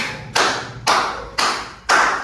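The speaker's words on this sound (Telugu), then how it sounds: "చప్పట్లు పట్టండి." Birthday guests clap together in slow unison, four loud, evenly spaced claps, each ringing briefly in the room, with no talk over them.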